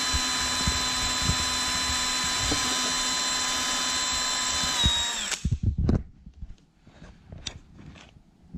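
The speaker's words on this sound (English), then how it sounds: "Now let's go ahead and drill this hole." A high, steady power drill with a 1/8 inch bit whines for about five seconds drilling into bone, then stops, followed by scattered clicks and handling noises.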